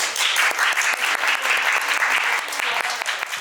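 Audience applause after an independent film screening and director talk at a small venue, a dense steady crackle of many hands clapping throughout, full and close.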